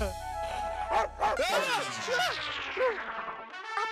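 A dog barks in a few short, sharp bursts, fairly close, mixed with voices and a brief low hum at the start.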